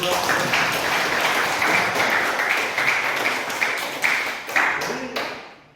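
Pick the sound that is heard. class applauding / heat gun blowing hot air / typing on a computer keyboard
class applauding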